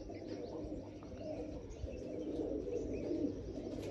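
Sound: pigeons cooing

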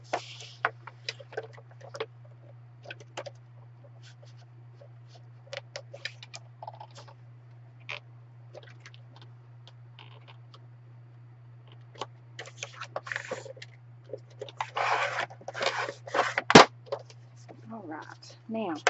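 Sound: blade cutting the side of a paper bag

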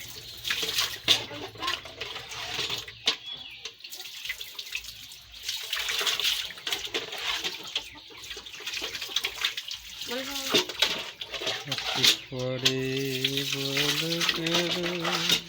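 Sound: running water being wasted in a village

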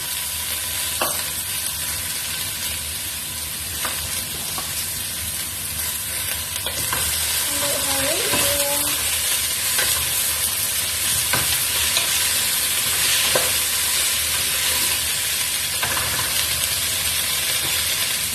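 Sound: stir-frying string beans and moringa leaves in a pan

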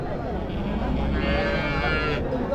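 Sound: dairy cows at a cattle market

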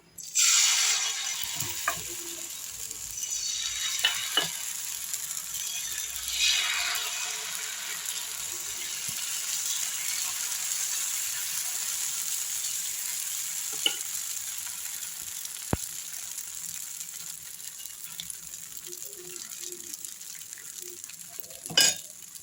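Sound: dosa batter sizzling on a hot pan, arai keerai dosa

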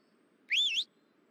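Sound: player whistling in Ranch Simulator video game

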